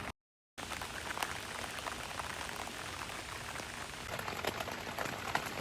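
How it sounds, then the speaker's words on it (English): Steady rain hits the sides of a one-person camping tent, a dense continuous patter heard from inside with scattered sharper drops, after a brief moment of silence at the start. "Just a nice steady rain. Hopefully you can hear it hitting the sides of the tent."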